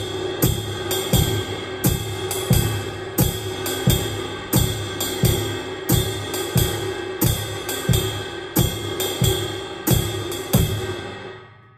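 A jazz drum kit plays a steady groove in a basic frame for a shuffle: shimmering ride cymbal, hi-hat chicks on 2 and 4, and four-on-the-floor bass drum. The kit is close and continuous, with no voice.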